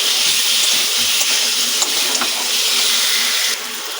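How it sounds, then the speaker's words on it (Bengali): Raw green banana kofta curry sautés in a pan, giving a loud, steady close sizzle and hiss throughout, with faint stirring scrapes and a slight drop in intensity near the end, and no voices. "এবার এটা আমি ভালোভাবে কষিয়ে নেব"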